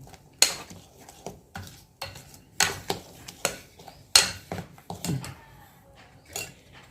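A spoon stirs millet idli batter mixed with Eno in a bowl, with a series of close, sharp clinks and scrapes against the bowl in an uneven rhythm, plus a faint voice in the background.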